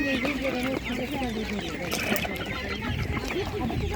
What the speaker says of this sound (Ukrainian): Півні, бачите, самі півники.